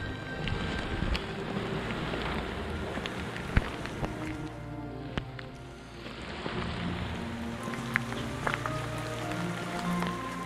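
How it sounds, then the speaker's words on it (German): Heavy, steady rain pours down on a hiking trail on the Welterbesteig in the Wachau near Krems and Dürnstein, a continuous dense hiss with close patters and gusty wind noise on the microphone, with no talking. "weil es regnet nämlich und zwar ziemlich stark"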